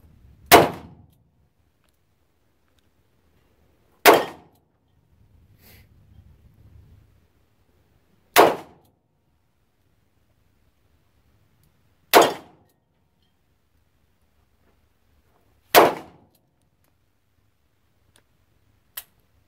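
Five sharp revolver shots from a Ruger LCR or Taurus lightweight revolver ring out at roughly four-second intervals. Each report is loud and abrupt and fades quickly, with near silence between shots.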